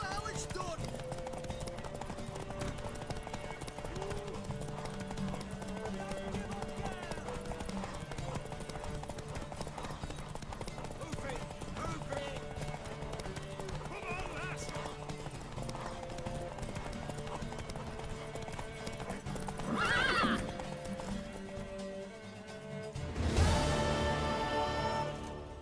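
Horse hooves clip-clopping at a gallop during a race in The Witcher 3, a fast steady rhythm running under game music and voices, with a sharp louder burst near the end.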